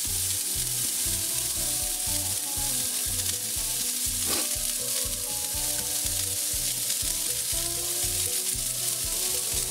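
Burger meat balls sizzle steadily on a Smokeware flat cap griddle, a loud, continuous crackling hiss with a brief sharper pop near the middle and a low rhythmic hum beneath.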